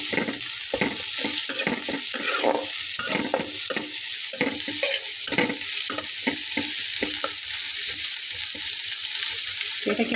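Chopped snake gourd fries in a hot pan with chili, a steady loud sizzle running throughout while a spatula stirs and scrapes in frequent close knocks.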